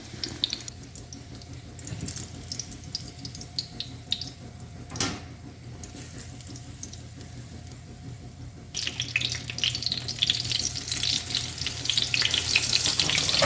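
Eggplant slices fry in about a quarter inch of hot oil at around 340 to 350 degrees in a pan, a steady soft sizzle that swells louder and brighter toward the end, with a brief clatter midway.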